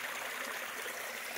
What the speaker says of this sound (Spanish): Qué bonito cómo pasa el río aquí